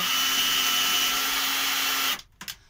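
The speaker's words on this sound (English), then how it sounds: "So we're gonna drill the spigot hole." A power drill whines steadily at high speed for about two seconds while drilling a spigot hole in an RC car tray, then cuts off abruptly, followed by a couple of faint clicks.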